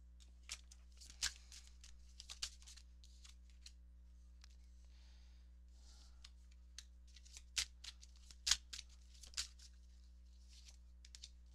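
Tarot cards being shuffled and drawn during a reading, giving soft papery riffles and scattered crisp flicks over several seconds, close and fairly quiet with a steady low hum beneath.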